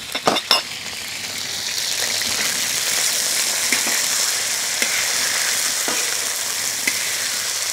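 Lamb frying for Turkish sac kavurma over a wood fire, giving a loud, steady sizzle throughout, punctuated by a few metallic clinks and scrapes of stirring at the start and later.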